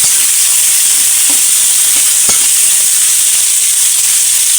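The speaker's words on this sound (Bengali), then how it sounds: "এখন পেঁয়াজগুলো নিয়ে চেড়ে নেব" Chopped onions fry in a pan with cinnamon and bay leaves for a goat meat curry, giving a loud, steady, close sizzle with one faint clink and no voices.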